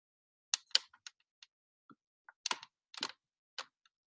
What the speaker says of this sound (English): I was just typing your question in the chat.